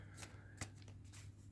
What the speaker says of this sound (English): Let's find out as we shuffle these cards up.